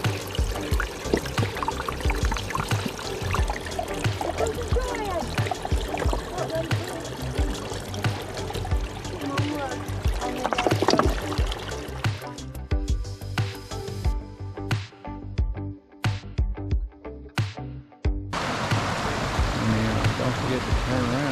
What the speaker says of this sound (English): You're right next to the beautiful creek the whole time.